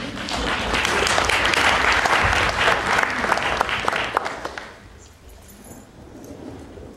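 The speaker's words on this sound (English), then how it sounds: "Maybe we should have another round of applause for Dr. Wani." Panel audience at the Rendezvous with Madness 2008 festival giving Dr. Wani another round of applause, a steady, full clapping that fades out after about five seconds, leaving quiet room tone.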